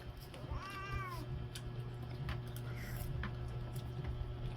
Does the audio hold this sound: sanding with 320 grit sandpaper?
no